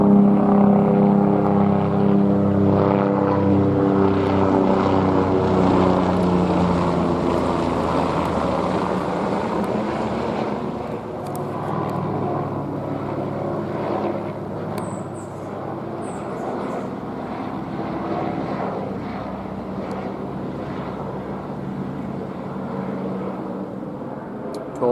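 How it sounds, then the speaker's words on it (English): A helicopter, likely an LAPD unit, passes overhead on July 4, 2016, a low, rumbling engine drone loud at first and slowly fading into a broad whooshing wash with some wind noise. "This is probably an LAPD helicopter."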